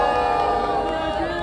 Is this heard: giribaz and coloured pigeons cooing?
no